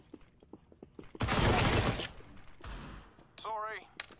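A short, loud burst of video game gunfire erupts in the middle, followed by a fainter volley, with scattered clicks and a rising electronic whine around it.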